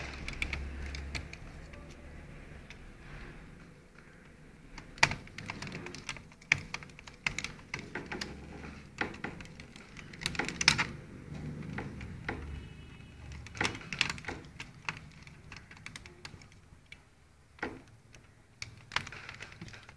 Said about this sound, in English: So we will remove the screws